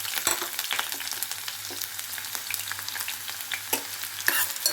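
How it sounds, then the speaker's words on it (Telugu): Chopped green chillies and onions fry in hot oil for a mutton curry, giving a steady crackling sizzle close by with a few sharp pops and stirring scrapes, and no voices. "ఆయిల్ వేడెక్కింది కట్ చేసి పెట్టుకున్న పచ్చిమిర్చి ఉల్లిపాయలు వేస్తున్నాను"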